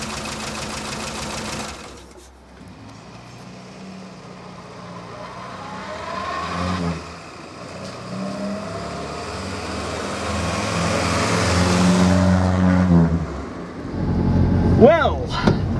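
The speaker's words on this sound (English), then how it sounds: "Well, I'm warming the car up now." A Morris Minor engine idles while warming up, a rough ticking mechanical run that rises and falls, with brief revs and a clattering sound near the end.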